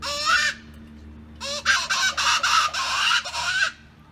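A closed reed predator call is blown to imitate a distressed chicken. A short squawk is followed by a pause, then a longer run of rapid, loud, close squawking pulses that ends abruptly.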